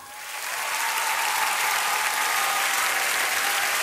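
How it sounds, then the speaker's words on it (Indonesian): A studio audience breaks into loud applause for the first contestant of a singing competition, swelling in over the first second into a dense, sustained roar of clapping. "teruskanlah berikan tepukan paling gemuruh untuk peserta pertama kita, Shikin"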